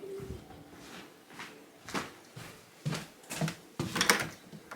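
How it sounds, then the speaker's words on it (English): A pet scratches and bumps at an indoor door in a series of irregular scrapes and knocks, faint and close, with no speech. "I can hear Rhubarb scratching at the door, hang on."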